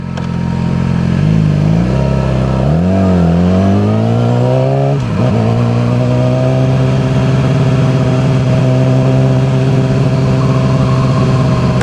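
A Yamaha R6 sport motorcycle with no exhaust fitted revs hard and raw, with a few sharp rising throttle blips before settling into a loud, steady, rasping idle drone, very close.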